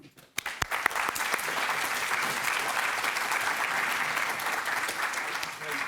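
An audience at an NYU Stern sustainable business event welcomes the CEO of Fortune Media with loud, sustained applause. It starts with a few scattered claps and quickly swells into a steady, full round from the crowd.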